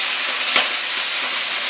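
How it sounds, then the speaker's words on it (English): Leafy greens sizzle loudly in a hot pan as they are stir fried, a steady dense hiss with a brief louder flare of spitting partway through and no voices. "This is going to sizzle and steam."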